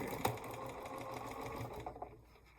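Domestic sewing machine stitching colored fabric pieces together, a steady rapid needle whir running close and fairly loud for most of the moment before slowing and stopping near the end.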